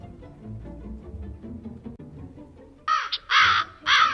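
A crow-like bird gives three loud, harsh caws in close succession, following a stretch of low, muffled background.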